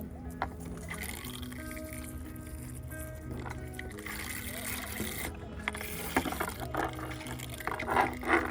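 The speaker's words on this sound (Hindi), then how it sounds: "अब इसमें हम पानी डाल देंगे।" Water poured onto a potted hibiscus plant in a home garden, a gentle trickling and gurgling that builds toward the end, heard under background sound.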